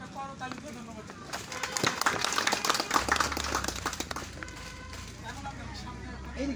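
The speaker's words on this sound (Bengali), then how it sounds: "আমরা ওনাকে একটা করতালিতে ধন্যবাদ দিচ্ছি" A group of people clap in thanks outdoors at a plant nursery, the scattered claps building into a brief burst and then fading, with voices talking over and after it.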